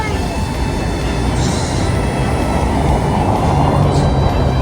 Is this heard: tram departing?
yes